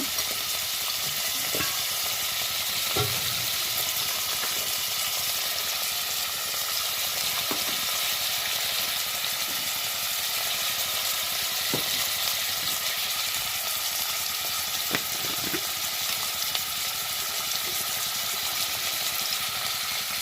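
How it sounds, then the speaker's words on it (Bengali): A papad and drumstick curry fries in a little oil in a pan, giving a steady, even sizzle for the full twenty seconds, with a few faint clicks of stirring. "এটা একটু ভাজা হলে তারপরে এর মধ্যে হালকা একটু ভাজা ভাজা হোক"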